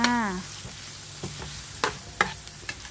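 Chicken being stir-fried with red curry paste in a pan, with soft scraping stirs and light sizzling, punctuated by a few sharp utensil clinks against the pan, close up with a brief voice at the start.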